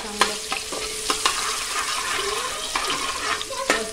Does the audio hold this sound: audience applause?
no